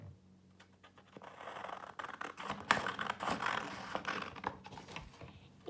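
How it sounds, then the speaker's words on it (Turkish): Scissors cutting out a paper hand shape: a run of quiet, uneven snips and scratchy rustling that grows denser and louder partway through, close and without speech. "Şimdi makasımı aldım ve elimi kesiyorum."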